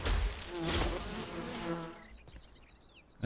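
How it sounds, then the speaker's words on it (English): Bees buzzing in the video game Enshrouded, a close, droning insect hum layered under game sounds, fading out before a short thump at the end. "God damn bees."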